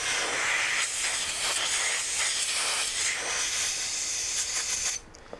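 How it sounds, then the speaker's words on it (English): Steady, loud hiss of compressed air blowing over a 1/25 scale model of the Duel truck to dry it, running continuously for about five seconds before cutting off abruptly. "I'll just take my little compressed air."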